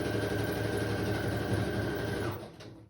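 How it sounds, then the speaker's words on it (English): A sewing machine stitching book pages for a junk journal runs in a steady, fast mechanical whir with a rhythmic needle clatter, close and even, then winds down and stops near the end. "Sorry that I'm sewing off camera."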